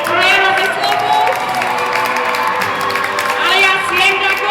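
Crowd at a horse show applauds and cheers for a rider on his horse Zero, loud sustained clapping with whoops and shouts throughout.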